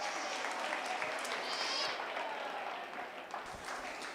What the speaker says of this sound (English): Let's give all these exhibitors a big round of applause.